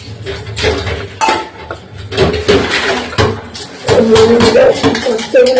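Dishes, pots and pans being washed, with repeated loud close clanks, scrapes and cutlery clinks in an irregular rhythm, some running water, and brief talk in the background.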